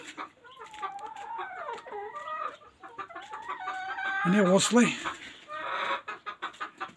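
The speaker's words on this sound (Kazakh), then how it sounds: "Міне осы жерде қазір 20 шақты тауық бар." About twenty hens cluck and squawk close by, with a brief rooster-like call in the middle and a few quiet spoken words.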